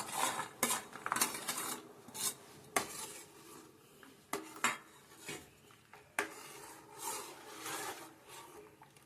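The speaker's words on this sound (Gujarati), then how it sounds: "હવે આપણે તેમાં કાજુ નાખીશું" A metal spoon scrapes and clinks in a pan of simmering Gujarati kaju gathiya curry as cashews go in, close-up irregular bursts of clatter and rubbing separated by quieter gaps, no voices.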